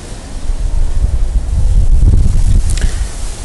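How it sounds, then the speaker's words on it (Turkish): Strong wind buffeting the microphone outdoors at a mushroom log-growing site, a loud low rumbling roar that swells and holds throughout with a brief rustle near the end and no talking. "Burada rüzgar hala fazla."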